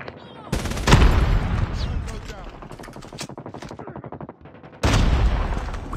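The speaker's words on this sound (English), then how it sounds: "Sentry gun deployed." A sentry gun in the mobile shooter Call of Duty Mobile fires loud rapid automatic bursts, with dense rattling shots close by, a pause, then another heavy burst.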